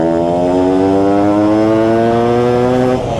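A Suzuki Satria or Yamaha F1ZR motorcycle accelerates hard in second gear, its loud engine rising steadily in pitch for about three seconds before easing off, heard alone and close.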